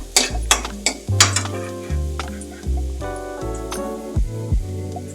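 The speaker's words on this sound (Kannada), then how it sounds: "ಬೆಳ್ಳುಳ್ಳಿ ಸ್ವಲ್ಪ ಫ್ರೈ ಆಗಲಿ" Garlic sizzles in a hot pan for a radish leaf palya, with repeated stirring clinks and a steady hiss over a low, stepped tonal background.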